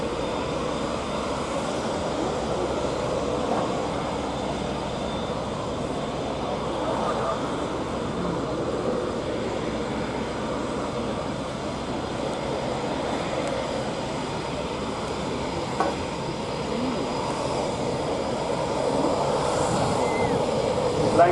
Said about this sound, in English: Flying from your right, the Tango 6 executes a horizontal 4-point rotation.